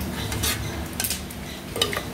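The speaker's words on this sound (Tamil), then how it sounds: "நல்லா கிளறி விட்டுடலாம்." Red stem amaranth spinach kootu being stirred in a pan, with a few soft scraping clinks of a spoon against metal over a low, steady kitchen background.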